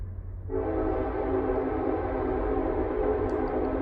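A train horn sounds steadily over the low rumble of a passing train, a sustained loud blare that continues without a break.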